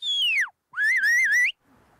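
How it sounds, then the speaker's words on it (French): A shepherd in New Zealand whistling commands to sheepdogs: a loud, clear falling whistle, a brief pause, then a longer warbling whistle that rises at the end, heard alone and close. "Chaque sifflement indique une commande, un ordre différent pour le chien."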